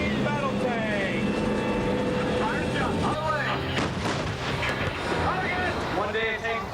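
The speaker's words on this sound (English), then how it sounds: "the heavyweight champion of the world, the M1A2 Sep Abrams main battle tank" An M1A2 SEP Abrams main battle tank firing during combat training, a loud booming blast amid heavy rumbling and a busy battlefield din, with someone narrating over it.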